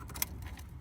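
A fuel line quick connect on a 1994 Buick Regal snaps onto the fuel filter with one sharp, close click over a faint, steady background hum.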